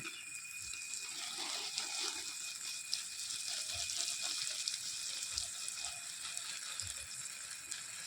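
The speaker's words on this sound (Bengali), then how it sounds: "এখন আমি গাছগুলোকে জল দিয়ে দিব ছোট মেশিন দিয়ে" A small water machine sprays a steady, even hiss of water onto sandalwood and other young trees outdoors, continuous throughout at moderate level with faint low thumps underneath.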